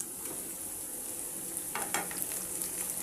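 Soft stirring and light sizzling as tomatoes are mixed into frying Bombay rava upma in a pan, a quiet steady hiss with a few scraping strokes near the end.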